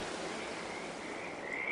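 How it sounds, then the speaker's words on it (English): Frogs croaking in Farming Simulator 22 during late November, a dense steady chorus of ambient chirps and croaks, fairly faint and continuous throughout with no talking. "although the frogs don't seem to know that"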